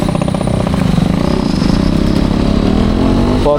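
Yamaha RX two-stroke motorcycle with a loud exhaust, its engine running steadily and close, with a dense, rapid throbbing idle throughout and no talking.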